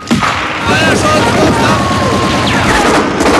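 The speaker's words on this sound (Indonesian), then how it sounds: "Muller melanggar perjanjian dengan melepaskan tembakan ke arah prajurit Uni Soviet." Bursts of gunfire crackle through a battle scene in a Stalingrad war film, loud and dense, layered over a busy soundtrack.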